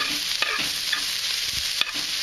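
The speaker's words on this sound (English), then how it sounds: "Now you want to just basically wilt your spinach." Spinach wilting in a hot pan for Oysters Rockefeller, a constant close sizzle broken by scraping stirs of the utensil against the pan, with no voices.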